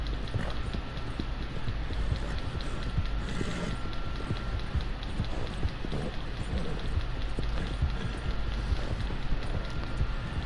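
A horse runs in Red Dead, its hooves making a continuous rapid clip-clop over a dense, steady bed of outdoor noise that sounds almost like rain, with no pauses throughout.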